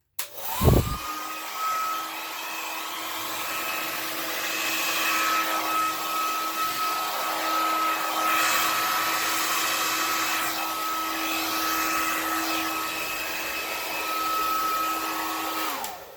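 An air blower pushes acrylic paint across a surface in a Dutch pour. A sharp click starts a steady, loud whine with a high tone, which holds close and alone for about fifteen seconds before winding down.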